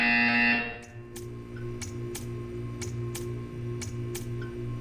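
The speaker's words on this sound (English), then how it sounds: "You will hear a buzzer." After a loud tone cuts off, a buzzer in Portal 2 pulses in a steady rhythm of short repeated bursts over a low hum.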